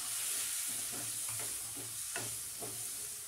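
Cubed paneer stirred and roasted in a pan for paneer butter masala, with a steady sizzle and scraping spoon strokes every half second or so, close and continuous, no talk.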